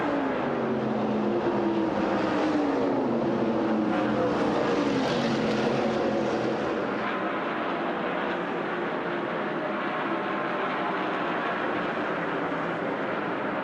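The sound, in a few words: NASCAR stock cars racing at the 1986 Southern 500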